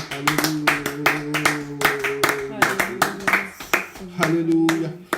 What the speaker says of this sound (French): applaudissons le Seigneur. Clap our hands for the Lord.